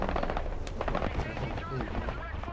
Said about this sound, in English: A large explosion, large enough to knock down a local helicopter.